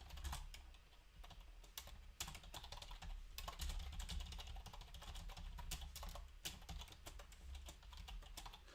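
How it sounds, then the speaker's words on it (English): Steady typing on a computer keyboard, rapid irregular key clicks running throughout at close range, fairly quiet with no talking. "I'm going to type it in."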